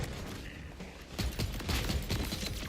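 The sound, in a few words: assault rifle rapid fire in video game Borderlands 4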